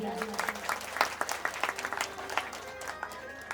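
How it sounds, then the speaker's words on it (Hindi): Applause from a devotional gathering at a live Ram katha, faint and scattered claps mixed with voices and a steady tonal hum underneath. "एक बार सभी ध्यानियों के लिए जोरदार तालियां।"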